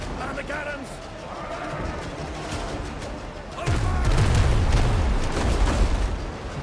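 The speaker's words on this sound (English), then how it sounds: "Man the cannons!" Ship cannons fire in the game Windrose, a dense run of booming blasts that swells partway through and rolls on loudly amid battle noise and game sounds.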